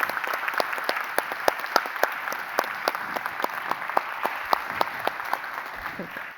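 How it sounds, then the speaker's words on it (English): An audience at a creative-industries panel discussion claps steadily and fairly close, a dense patter of hands that continues evenly before fading at the end. "Round of applause for our panel"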